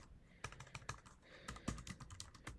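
Rapid, uneven keystrokes on a computer keyboard, close and fairly quiet, filling about two and a half seconds of typing on their own with no talk.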